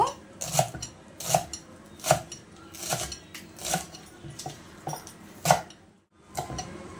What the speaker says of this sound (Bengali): এইবার আমি পাতাগুলোকে এইভাবে কুচিয়ে নেব একদম ছোট ছোট করে